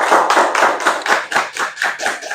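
Students in a school classroom applaud with brisk, evenly spaced hand claps, about ten beats in a quick steady rhythm, close and alone.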